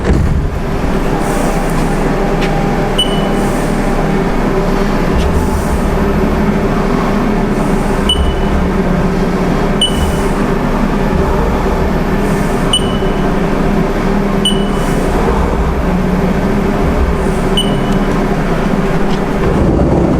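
A Haas CNC machine running a Renishaw probe cycle to pick up a corner: a steady mechanical hum and drone with regular faint high beeps or ticks every couple of seconds, with no talk.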